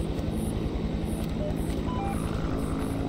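A loud propeller aircraft drones steadily in a video game, a constant engine roar with a low rhythmic beat that fills the background while players talk over it.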